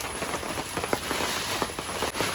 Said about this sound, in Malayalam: മഴ ഇപ്പം കുറച്ച് കുറഞ്ഞതേ ഉള്ളൂ